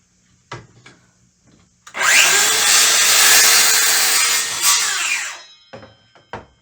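A Dewalt 60-volt Flexvolt DCS578 7-1/4 inch circular saw cuts through a thick, dense hardwood board about 1 3/4 inch thick, a loud close whining rip lasting about three and a half seconds, framed by quieter handling clicks and bumps.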